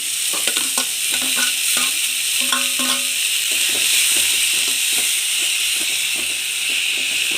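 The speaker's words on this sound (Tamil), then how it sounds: "நம்ம ஆனியன் லைட்டாக வதங்கினா போதும், கலர் சேஞ்ச் ஆகக்கூடாது." Onion and finely cut small tomato sautéing lightly in a pan for kurma, a bright continuous sizzle with repeated scraping and clacking of a spatula in the first half, close up, no voices.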